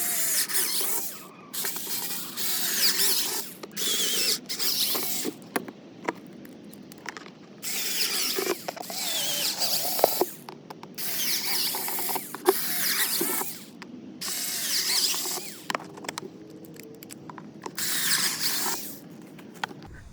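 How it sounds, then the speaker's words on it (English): A power drill bores a grid of holes into a plastic gardening container, with repeated whirring bursts of a few seconds each separated by short pauses, close and fairly loud. "On the narrow side of the container, we're going to drill 9 holes in a 3x3 grid."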